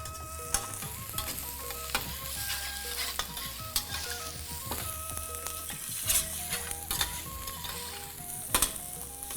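Two tomatoes frying in spice paste in a pan make a loud, continuous sizzle, broken by scraping stirs and clatter from the spoon, with no talking.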